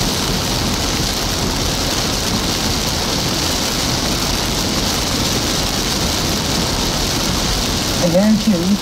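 Steady heavy rain pours throughout a severe thunderstorm in Illinois, a dense continuous hiss close around the listener, with a brief vehicle or engine-like sound rising near the end.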